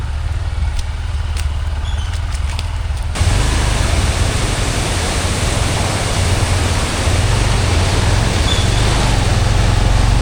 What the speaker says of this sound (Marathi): तुम्हाला दिसत नसेल पण नदीला भयंकर पाणी आलं आहे आता